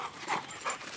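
An overexcited dog pants in quick, rhythmic breaths, close by and moderately loud, with about three distinct puffs over a single second.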